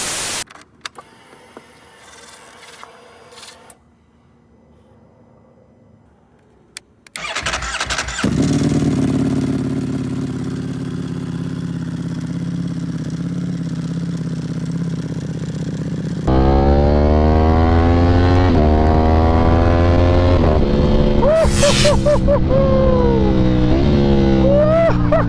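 A Ducati Panigale V4 sport motorcycle sits quiet, then its engine cranks and fires into a loud, rough idle, later rising into sharp, sustained revs close by.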